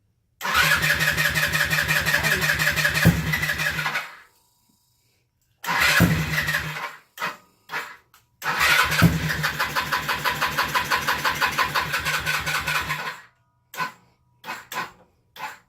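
A motorcycle engine on a budget build with a dead battery cranks over in two long bursts, followed by a few short stuttering turns, but it never catches. It is loud and close, with brief gaps between attempts.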